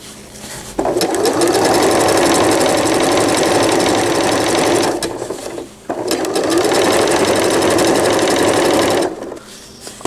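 A sewing machine runs loud and close as it stitches a cloth diaper cover with gussets, whirring in two long steady runs with a short break between them.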